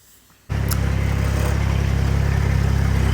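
Tractor engine idling steadily and loudly close by, starting abruptly after half a second of quiet and continuing with a constant low rumble and rhythmic chug throughout, with no talking.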